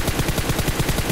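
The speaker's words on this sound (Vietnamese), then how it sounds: "Còn cái team trên đồi bắn mình nãy giờ" Rapid automatic gunfire in the mobile battle-royale game PUBG Mobile, a fast even burst of about ten sharp cracks in just over a second, loud and with no voices over it.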